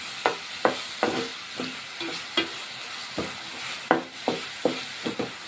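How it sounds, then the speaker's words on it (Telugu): Onions sautéing in oil with salt for a raw banana curry, a steady sizzle broken by about a dozen sharp scraping stirs at an irregular rhythm, close and fairly loud with no talking. "కొంచెం సాల్ట్ వేసుకుంటే ఉల్లిపాయలు బాగా మగ్గుతాయి. ఆయిల్లో ఇలా మగ్గించుకుందాం."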